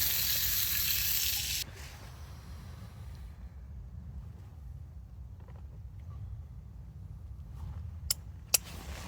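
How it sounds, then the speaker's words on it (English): Cherry tomatoes sauteing in a pan, a bright hiss of sizzling for the first moments, then a lower, quieter frying crackle with a couple of sharp clicks near the end. "I'm going to saute some cherry tomatoes."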